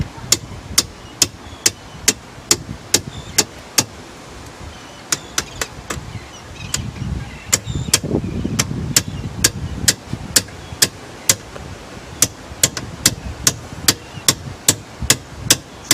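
Sharp metallic hammer taps drive a new roller into a sliding door, coming in quick even runs with short pauses between, close by, over a low background rumble.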